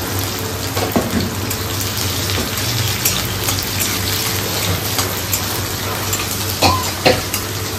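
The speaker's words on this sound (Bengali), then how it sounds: "আগে মা একটু সাদা তেলে সর্ষে আর শুকনো লঙ্কা ফোড়ন দিল" Mustard seeds and dried red chillies spit and fry in hot white oil in a home kitchen, a steady close sizzle with a few sharper pops and crackles standing out, no voices.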